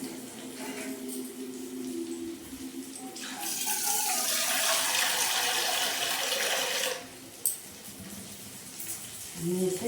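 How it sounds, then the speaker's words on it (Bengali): Water pours into a pan of cooked-down masala for a Bengali pabda fish curry, a broad rushing splash rising at about three seconds and running steadily for several seconds before cutting off, followed by faint kitchen clatter. "এবার আমি জল দিয়ে দেবো।"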